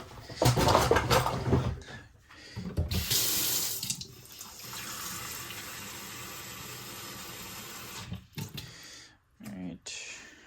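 Tap water runs into a measuring cup at a kitchen sink, a close, steady splashing gush with brief interruptions and a final short burst, under occasional talk.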